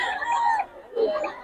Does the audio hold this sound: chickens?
yes